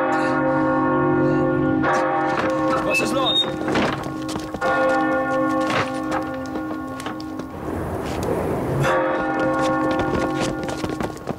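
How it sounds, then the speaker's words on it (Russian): A church bell rings with repeated metallic strikes and long ringing overtones, loud and continuous, with faint thuds and rustling mixed in around it. "Колокол."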